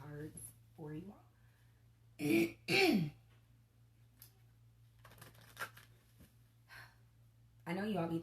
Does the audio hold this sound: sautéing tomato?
no